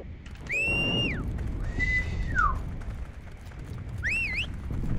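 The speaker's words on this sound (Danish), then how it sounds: "Han har en perfekt fløjt." A person whistles three short phrases, two gliding down and a final wavering one, over the steady background rumble of the multiplayer war game Heroes & Generals.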